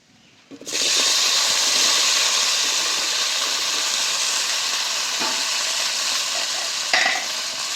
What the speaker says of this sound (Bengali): তেলের মধ্যেই কেটে রাখা ঢেঁড়সটাও ভেজে নেব।